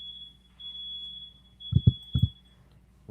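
A smoke or fire alarm sounds a steady high electronic tone indoors, loud and continuous, with a few brief thumps and knocks near the end.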